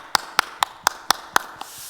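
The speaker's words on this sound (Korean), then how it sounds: "우리 하나님께 영광의 박수 올려드립시다" About six sharp, evenly spaced hand claps ring out during a Sunday church service, crisp and close against a quiet room, with a softer final clap before the sound fades.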